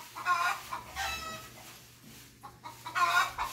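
Chickens cluck and a rooster crows in a rural Philippine village yard, the bird calls rising in a few bursts over low background hum at moderate distance.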